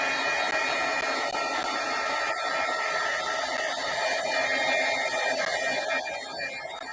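A heat tool or dryer blows in a steady, loud airy whoosh while drying a freshly colored card sketch, holding nearly constant throughout.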